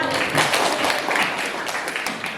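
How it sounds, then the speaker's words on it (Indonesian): A ninth-grade class claps together in a school classroom during a civics lesson, a short, loud burst of mixed hand claps close by. "Tepuk tangan untuk kita semua."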